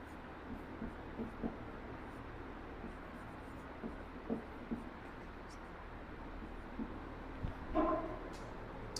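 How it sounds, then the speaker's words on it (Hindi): A definition written by hand: faint, soft scratching strokes in short bursts over a low room hum, with a slightly louder scrape near the end. "साथियों, इसका परिभाषा हम अभी लिख रहे हैं, देखिएगा"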